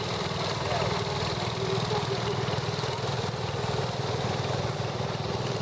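A Wheel Horse Raider 12 six-speed garden tractor running at a parade, its small engine putting out a steady, even chug that holds close and fairly loud throughout.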